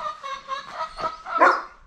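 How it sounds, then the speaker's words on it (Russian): Chickens cluck in a few short close bursts near a bathhouse and stove room, the loudest call coming at the end. "Ой, певицы куры."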